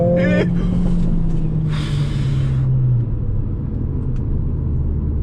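Mercedes-AMG CLA 45 S Shooting Brake with four-wheel drive launches from a standstill, its engine climbing through the revs then settling into a steady rumble, heard from inside the cabin with a brief exclamation near the start.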